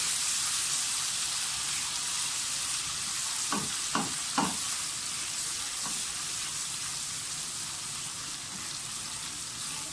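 Steady sizzling of garlic and ginger frying in hot cooking oil, a constant hiss with a few soft stirring clacks in the middle, no voices.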